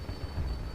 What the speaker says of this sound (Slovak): Hej, letadlo, čau!